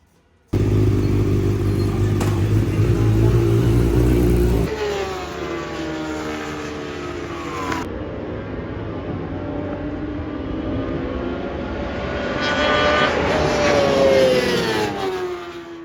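A racing motorcycle roars loudly on a circuit in Australia during a tyre test, its engine note shifting through sustained high-revving passes and pitch sweeps up and down, close and alone with no talking.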